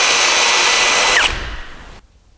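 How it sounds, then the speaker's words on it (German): A power drill drives a screw, a steady high whine running close and loud before winding down and stopping abruptly, leaving near silence; no talk. "Guck mal, wie die Schraube da reingeht, das ist doch einfach göttlich."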